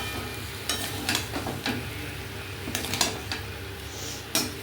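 Taro and prawns being stirred into fried masala in a pan, with a soft steady sizzle under scattered scraping clinks of a spoon against the pan, close by, no voices.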